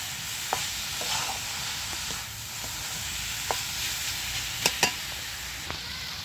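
Coconut naru mixture with sesame being stirred in a pan, a quiet soft sizzle under scattered scraping clicks of the spoon, a few sharper knocks near the end, no voices.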